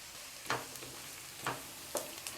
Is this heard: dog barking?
no